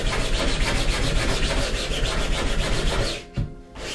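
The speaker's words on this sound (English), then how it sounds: "I was sanding on the seam" A sandpaper block rubs back and forth along the seam of a 3D-printed plastic Buster Sword, making a close, continuous raspy scrubbing in quick strokes that breaks off near the end.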